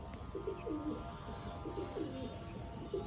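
Green pigeons coo softly in short repeated bursts, several low rolling calls in two clusters against a steady background hum, with no talking.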